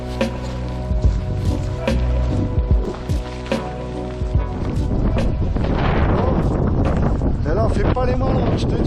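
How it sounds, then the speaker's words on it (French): Cold wind gusting hard against the microphone on a mountain hike in Auvergne, building into a loud continuous roar in the second half, with intermittent thumps and a person talking early on. "le vent il est glacial"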